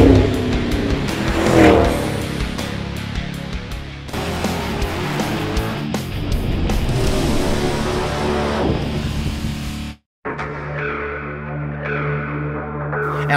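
A 2007 Dodge Magnum RT with a supercharged, tuned 5.7-litre HEMI V8 on its stock exhaust revs and accelerates loudly with tire squeal, then after a brief cut idles with a steady rumble.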